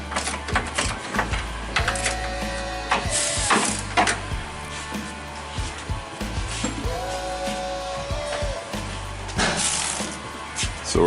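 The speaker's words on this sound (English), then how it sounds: "I'll film a little bit of taking bolts out." Bolts removed from a 1955 Pontiac Chieftain transmission with a power tool, several bursts of buzzing whirring a few seconds apart, close and fairly loud, with clanks between them.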